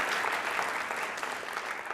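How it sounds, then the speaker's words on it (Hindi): Audience applause at a university Holi quiz show, a steady dense wash of many hands clapping together, moderately loud and continuous throughout with no talk over it. "आभार प्रदर्शन के लिए जोरदार तालियां बजाइए एक बार"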